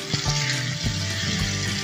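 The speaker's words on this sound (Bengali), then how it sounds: "তাই লাউটাকে আমি ভালো করে ভেজে নিচ্ছি" Bottle gourd frying in a pan, a steady close sizzle with soft bursts of crackle and occasional stirring scrapes, no voices.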